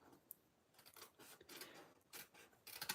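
Scissors snip and rasp along a score line on a paper Christmas craft pattern, several quiet cuts and rubbing strokes close up, without talk.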